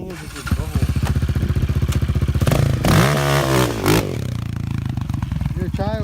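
A Honda CRF450 dirt bike engine revs up close in a dirt jump setting, a steady throbbing idle rising into a surging, swooping rev near the middle before settling back to a rough idle.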